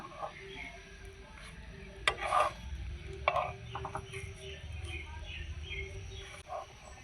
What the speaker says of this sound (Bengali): এখন পিঠাটাকে আমি উল্টে পাল্টে একটু ভেজে নেব।